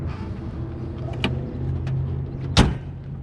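A truck passes by outdoors, a steady low engine rumble that stays near and loud throughout, with a sharp clunk about a second in and a louder thump near the end.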